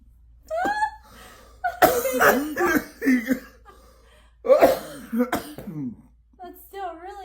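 Several harsh, close coughs and throat-clearing bursts, irregular and loud, with short gaps and vocal sounds in between.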